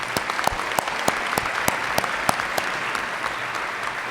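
An audience at a pharmacy credentialing town hall claps a round of applause, with crisp individual claps rising out of a steady patter and holding at a moderate level for the whole stretch.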